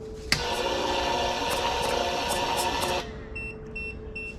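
A 2.5 horsepower air compressor connected to an AFERIY P210 power station fails to start: a sharp click, then about three seconds of strained electrical humming buzz that cuts off, followed by a few quiet high beeps.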